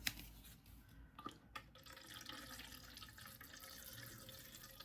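Distilled water runs steadily into a tumbler, a soft continuous pour with a few small clinks near the start, close by and fairly quiet.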